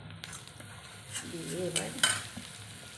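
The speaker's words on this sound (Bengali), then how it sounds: "মশলাটা একটু ভাজা ভাজা হচ্ছে" Ground turmeric, chili powder and cumin fry in oil in a pan over a clay stove, giving a steady close sizzle with a brief voice partway through.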